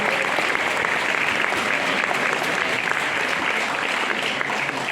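Sustained applause from an audience at a town's Olympic and sports gala evening in Chelles, dense and steady clapping throughout, filling the room at a constant level.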